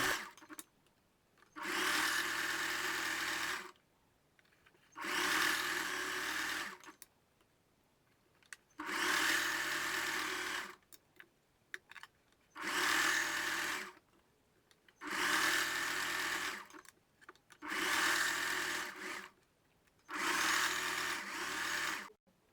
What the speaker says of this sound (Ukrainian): Прокладаю другу строчку по лицю.